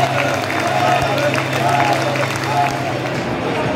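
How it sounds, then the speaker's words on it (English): A football stadium crowd at a Rotherham United (Millers) versus Sheffield Wednesday match roars and cheers steadily as the teams come out, a dense, loud wash of voices and applause filling the whole stretch. "Crowd seem to be in good voice"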